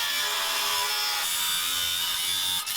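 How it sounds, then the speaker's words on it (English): A 6-inch cutoff wheel grinding through metal clamped in a vise on a snow cat restoration, a steady loud high-pitched whine heard alone. "we will run the 6-inch cutoff through it"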